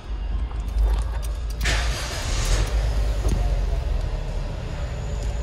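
A small car's engine cranks and catches, settling into a steady, close idle rumble with a brief burst of noise as it fires.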